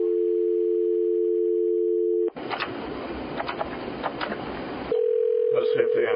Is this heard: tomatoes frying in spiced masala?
no